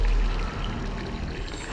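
Water gushes from a grimy sink faucet in the video game Geist, a loud, continuous rushing pour that starts abruptly and runs steadily without talk.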